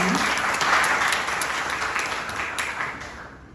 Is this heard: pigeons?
no